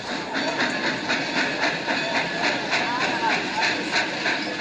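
A passenger train near a suburban rail station in Rio de Janeiro, with a steady hiss and a rolling rail rumble. Faint rhythmic clicks sound throughout, and the noise stays continuous and moderately loud.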